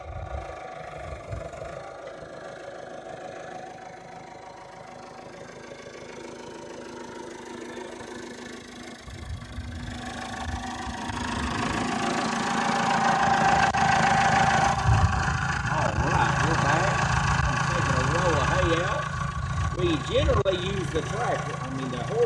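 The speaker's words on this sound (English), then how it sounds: "We're going to take the tractor and set everything down a roll of hay." A farm tractor idles on a snowy Christmas morning before feeding livestock, a steady low engine rumble that grows louder and rougher partway through, with a person talking over it.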